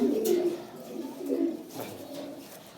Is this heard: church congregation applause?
no